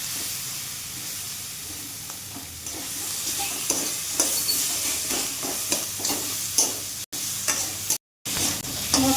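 A fish head is stirred through frying spice masala in a pan, giving repeated scraping spoon strokes over a continuous close sizzle, with two brief dropouts near the end.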